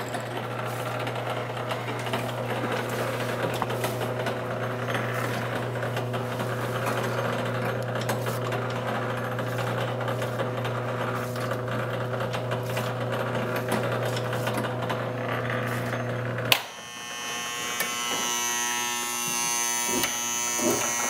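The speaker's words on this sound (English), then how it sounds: "I'm going to fire this machine up so that you can see the incredible movement of the machine." A rare antique fortune teller machine runs with a steady electric buzz and mechanical whir that holds for about sixteen seconds, then shifts abruptly to a thinner, higher whine.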